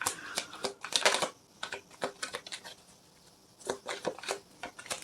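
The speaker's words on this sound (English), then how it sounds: "It's just me being bad at shuffling." Deck of tarot cards being shuffled by hand, a quick series of soft flicking, riffling clicks in uneven bursts with a short pause in between, close and fairly quiet.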